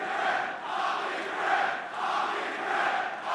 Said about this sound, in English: the crowd is chanting something I don't want to repeat right now